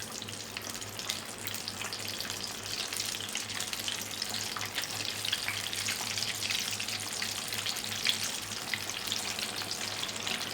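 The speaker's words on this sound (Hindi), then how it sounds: "तो इस वक्त हम इसमें चिकन फ्राई करने के लिए डाल देंगे" Chicken pieces for crispy fried chicken crackle and sizzle in hot oil over a medium-low flame, a dense, even frying hiss that carries steadily throughout with no voices.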